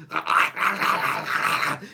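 A person imitates an aggressive dog, giving a rough, snarling growl in several close, loud bursts with short breaks between them, and no other talk.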